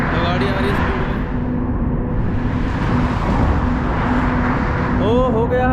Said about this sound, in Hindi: गाड़ी आ रही है स्पीड में